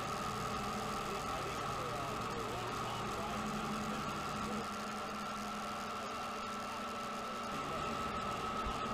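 BMW R18 motorcycle engine running steadily while riding, a continuous loud mid-pitched drone with a low rumble and wind noise throughout.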